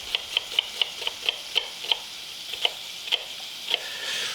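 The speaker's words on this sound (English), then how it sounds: "I'm going to saute this with half a cup of onion" Bacon and onion sauteing in a pan for a hearty kidney bean stew, with a soft sizzle under a steady run of light, evenly spaced taps and scrapes from stirring, close by and moderately quiet.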